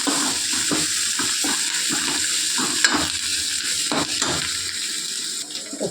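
Onions and tomatoes sauté in a pan for green tomato chutney, sizzling steadily with repeated scraping stirs of a spoon, close and continuous.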